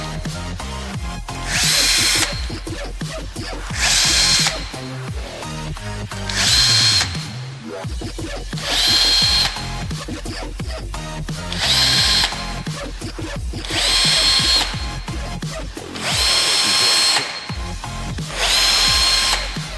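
A power drill whines loudly in repeated bursts of a few seconds each, drilling holes for rivet-style dots in a decorative sheet-metal-effect finish, separated by short gaps filled with clanking and handling noises.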